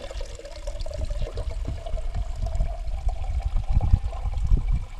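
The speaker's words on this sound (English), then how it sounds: "Fill it up with water." Water pours and splashes steadily into a Jetboil camping stove pot, a continuous gurgling stream with no one speaking.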